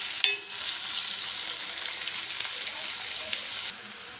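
Fish frying in hot oil with green chillies and rock salt, a dense continuous sizzle and crackle with a brief sharp clatter early on.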